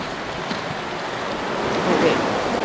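Ocean waves wash against a nature park shore as a steady broadband rush that swells slightly toward the end, with some wind noise on the microphone and no clear speech.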